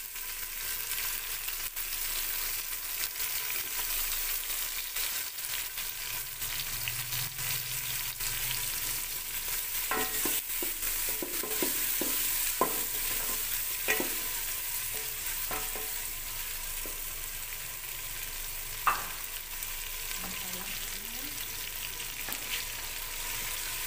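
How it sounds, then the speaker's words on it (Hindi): Onion frying with tomato, ginger and garlic paste in a pan, a steady soft sizzle running throughout with occasional faint clicks of stirring, no voices. "इसको अच्छी तरह भून लेंगे।"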